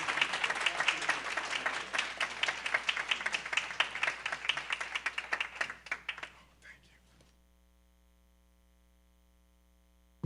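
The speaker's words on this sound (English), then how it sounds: "If we can give our honorees another round of applause," An audience applauds honorees at a school district Black History Month 2020 recognition in New Orleans, with dense steady clapping that thins out and fades to silence after about seven seconds.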